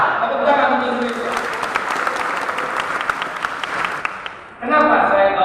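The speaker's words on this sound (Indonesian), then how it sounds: "Tepuk tangan untuk Indonesia." A loud burst of audience applause for Indonesia rises during a lecture on nationhood, with dense clapping filling several seconds before a voice resumes speaking near the end.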